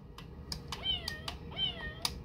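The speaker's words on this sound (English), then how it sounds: "That's the cat." A cat meows twice in drawn-out, rising cries, close by, with a few soft taps and clicks in the background.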